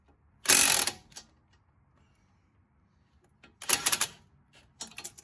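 Two loud bursts of mechanical clicking from a wrench working on front strut nuts of a 2014 Jeep Patriot 2.4, separated by quiet, with a shorter burst at the end, close up.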